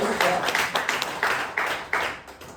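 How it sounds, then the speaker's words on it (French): Applause from a comedy show audience, a brief burst of scattered clapping with a few louder swells, moderately close, with talk mixed in. "tonnerre d'applaudissements pour les gens qui sont venus"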